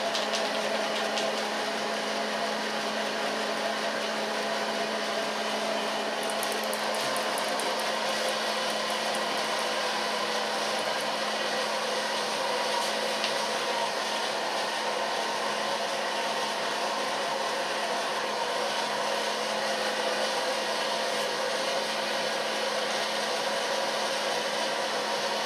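A hair dryer blows steadily on hair in a salon during a short cut and colour, a loud, constant whooshing hum with a faint whine, unbroken from start to finish.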